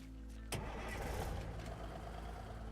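A truck engine in the video game Teardown cranks and catches with a sharp onset, then settles into a steady, loud low rumble at idle that continues to the end.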